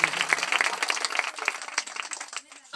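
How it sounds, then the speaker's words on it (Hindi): A church congregation at a prayer meeting claps loudly and steadily in a dense, continuous burst of applause lasting a few seconds. "ताली बजाइए जोर से।"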